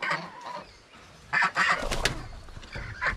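Young ducklings on a farm give short, high peeping calls in a few quick bursts, close by and alone.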